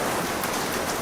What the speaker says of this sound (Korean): 빗소리가 너무 세서 더 이상 촬영 불가해요